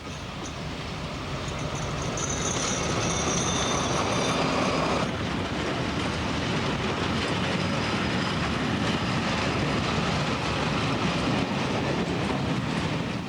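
A French BB series electric locomotive hauling a train coupled to a steam-heating boiler van passes nearby, giving a loud, continuous rumbling roar with rail noise and faint high squeals.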